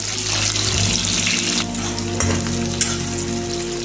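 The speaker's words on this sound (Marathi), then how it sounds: "आता हे कांदे आपल्याला 1 ते 2 मिनिटं असं तेलात फ्राय करावे लागेल" Chopped onions and whole spices fry in oil for an egg biryani, giving a loud, continuous close-up sizzle with light stirring and a faint tonal hum underneath.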